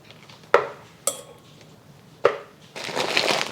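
Pork rib pieces dropped into a freezer bag of sweet potato starch: a few sharp close thumps and rustles, then a longer crinkling, rustling stretch as the bag is handled.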